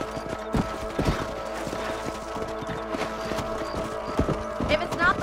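Horse hooves clip-clop in a steady rhythmic gait in the Red Dead Redemption video game on a ranch, fairly close and moderately loud, with a voice talking over them and ambient game music beneath.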